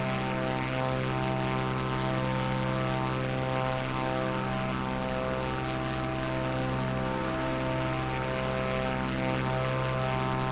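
Cessna propeller plane in Microsoft Flight Simulator 2024 droning with a steady, close engine hum and prop buzz, unchanging throughout with no talk.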